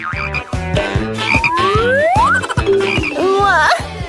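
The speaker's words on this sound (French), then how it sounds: "Non, c'est une grenouille ça. Ou un crapaud. Non, c'est un crapaud." A toad croaks over and over in a fast, pulsing rhythm, close and loud, with rising chirping calls layered on top of the steady croaks.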